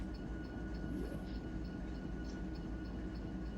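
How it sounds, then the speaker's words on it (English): GE Evolution (Gevo) locomotives in a train simulator give a quiet, steady low rumble, with a brief faint rising whoop near the start and light rhythmic clicks over the drone. "I hear those Gevos going whoop."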